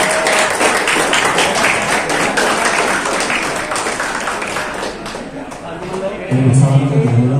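Audience applause at an Indonesian organisation's national working meeting, a dense, sustained wash of many hands clapping that thins toward the end as a voice begins speaking.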